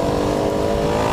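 A small-displacement KTM motorcycle engine revs hard and steadily, a loud, dense, continuous drone held high in the rev range from start to finish, close by with no talk.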